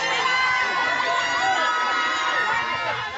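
An audience applauds and cheers for a cosplay group at a cosplay event. The noise is a dense, continuous wash of crowd sound with some shouting, and it holds steady throughout.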